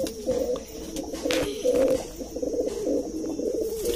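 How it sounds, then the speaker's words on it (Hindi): Kashni pigeons cooing steadily and close, low rolling calls overlapping with flutters and soft background noise. "ये जी काशनी कबूतर है, काशनी कबूतर"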